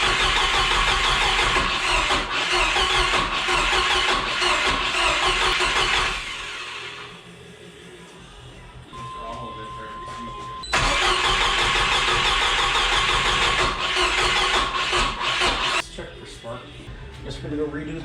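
A Turbo 3.0 Mercruiser boat engine runs loud and close on a test setup, a dense steady roar that drops to a quieter idle for a few seconds before surging back up, then easing slightly near the end.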